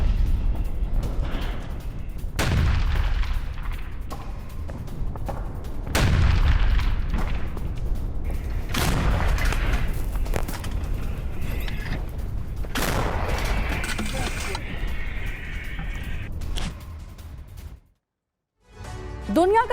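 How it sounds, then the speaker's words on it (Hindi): Heavy Russian artillery shelling near Avdiivka in Ukraine: repeated deep booms and blasts at irregular intervals, loud and reverberant, followed by a brief silence near the end. "रूसी आर्टिलरी ने की है भारी गोलाबारी।"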